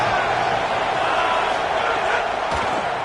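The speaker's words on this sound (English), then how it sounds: "This crowd ready to make its presence known." A dense, steady roar from a packed football stadium crowd at an Indiana at Penn State game, loud and continuous for the whole stretch with no clear breaks.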